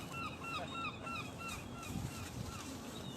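Seagulls calling at the seaside while chasing a hooked whiting, a series of repeated high, slurred cries over steady wind and water noise, fairly distant and continuous through the moment.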